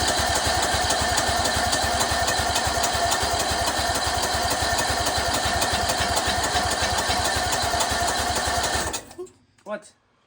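A race mower's small engine runs loud and steady with a rapid throbbing beat for about nine seconds, then cuts out into near silence with a few brief bumps.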